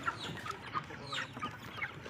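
Roosters clucking softly on a poultry farm, a scatter of short, faint calls from several birds close by, with no talk.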